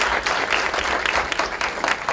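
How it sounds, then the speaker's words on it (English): A crowd at a community dialogue event claps for the panelists and moderator, producing dense, continuous applause with no pauses. "Another round of applause for our panelists and moderator."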